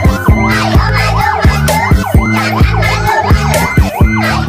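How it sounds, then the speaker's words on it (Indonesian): A toy fire truck blares a loud electronic siren with a fast repeating wail, close and continuous, while a tinny melody plays along. "Ada juga truk pemadam kebakaran."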